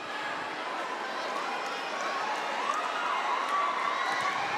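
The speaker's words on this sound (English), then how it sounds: "I don't know if you can hear it, but the audience is cheering" Crowd noise from a volleyball match at the 2023 PVL Invitational Conference, a steady broad roar of an arena audience cheering throughout, with talk running over it.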